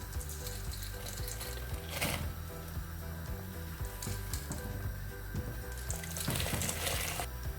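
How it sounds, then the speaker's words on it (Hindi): Red lentils tipped into a pot of boiling water in a home kitchen, a steady bubbling, hissing wash with a louder splashing burst as they go in, close and continuous without speech. "अब इसमें मैं ये दाल डाल दूँगी मसर।"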